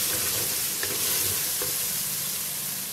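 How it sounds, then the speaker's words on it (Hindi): Spice masala of turmeric, red chilli, dried coriander, kasuri methi and garam masala roasting in a pan for dhaba-style dal mash, giving a steady loud sizzle with faint stirring scrapes, close and continuous, with no talking. "अच्छे से मसाले को भी भून लेते हैं हम लोग"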